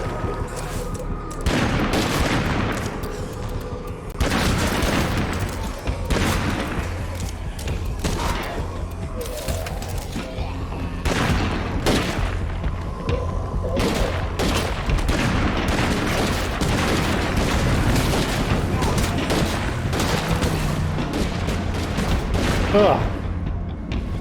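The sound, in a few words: gunfire shooting at a vehicle in a video game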